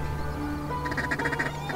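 A flock of wild ducks arrives over a Manitoba hunting spot, giving a burst of loud, repeated quacking calls close by over a steady low background hum.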